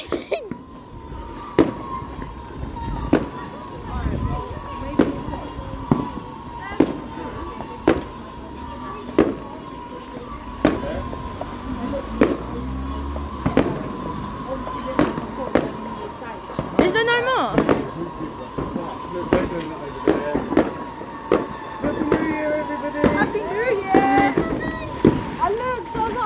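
New Year fireworks going off nearby, a long run of sharp, irregular bangs and crackles with whistling rockets, while people talk and shout excitedly close by.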